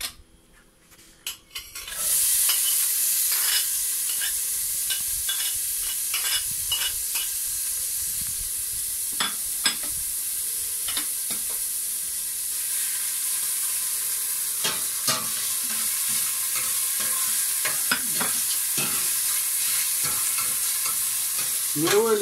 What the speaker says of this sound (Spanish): el aceite ya está calentando, así que vamos a echarle la cebolla